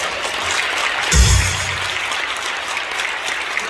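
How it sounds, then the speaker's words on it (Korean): A crowd applauds at a Christian women pastors' rally, with steady, dense clapping throughout that swells briefly near the start and then holds at an even level, with no voices. "전 목사님 얘기하면 다 박수 치시네 보니까"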